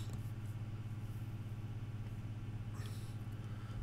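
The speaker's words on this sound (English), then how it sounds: "We have the tree trimming, a splendid truck." A tree trimming truck idles outside with a low, steady engine rumble that runs evenly throughout, faint and distant, with no talking.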